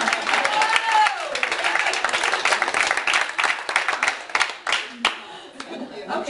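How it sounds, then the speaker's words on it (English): Audience at a volunteer organization boot camp claps in a loose burst, near and fairly loud, with voices chattering over it and the clapping thinning toward the end. "Can we clap?"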